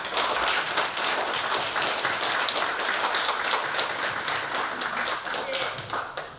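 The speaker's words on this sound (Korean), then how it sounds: "통찰력 있는 강의 해주신 연사님께 박수 부탁드립니다" Lecture audience gives the speaker a round of applause, a busy spread of many hands clapping at a steady level, with a voice briefly audible beneath it.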